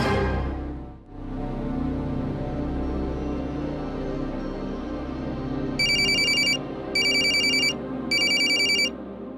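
A telephone rings in three short electronic bursts with brief pauses between them, loud and close, over a steady low hum.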